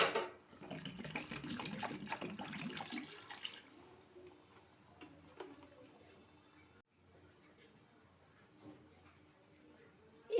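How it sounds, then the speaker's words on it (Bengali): Water running from a tap into a cooking pot for fish-head dal, a steady splashing stream for about three seconds, then a quieter kitchen with faint clinks. "এবার পরিমাণ মতো জল অ্যাড করুন।"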